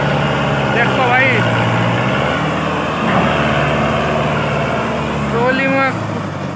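A Sonalika 750 DI 58 hp tractor engine runs steadily nearby with a low continuous drone, while people talk over it and a couple of short higher-pitched squeals cut through.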